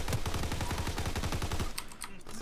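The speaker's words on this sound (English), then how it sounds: "I think I need to get a better gun than this grease thing." A grease gun in Call of Duty: WWII fires in a rapid, even burst of about a dozen close, loud shots, then stops abruptly, leaving fainter distant gunfire.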